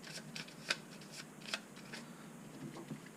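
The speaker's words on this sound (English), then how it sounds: "Shuffle him in the second pile." A deck of cards for the Transformers deck-building board game is shuffled by hand at close range, with several soft riffling bursts and light card slaps in an otherwise quiet room.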